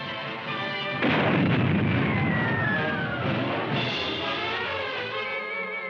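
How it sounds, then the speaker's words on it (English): An emergency demolition charge detonates at a bridge in WWII footage, giving a loud, sudden boom with a long rumbling roar that decays slowly, then a second swell of blast noise. "The bridge, shaken by the explosion, still stands."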